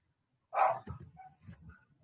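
Dogs barking at a distance indoors, one sharp bark followed by a few softer yips and whimpering noises, faint and brief.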